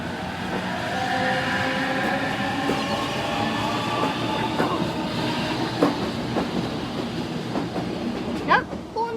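A Sydney suburban train pulls out on a Hornsby service, its motors whining up in rising tones over steady rumbling and clacking wheels, close by, with a short squeal near the end.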